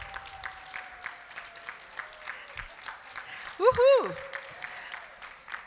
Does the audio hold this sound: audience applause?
yes